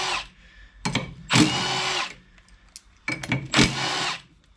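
A power drill backs screws out of a C5 collet chuck being fitted to a D1-8 cam lock lathe, running in two loud bursts of about a second each, with shorter trigger blips before each, close to the microphone.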